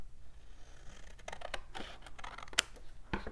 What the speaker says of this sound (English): I'll cut right at that score mark.